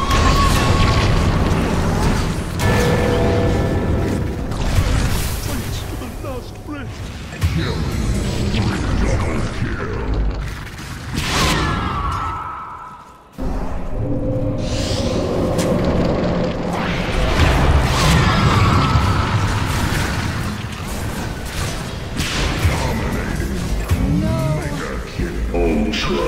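Dense Dota 2 match soundscape during repeated tower attacks: continuous booming impacts, explosive bursts and clashing spell effects pile up loudly throughout, with a brief dip in the middle before the barrage resumes.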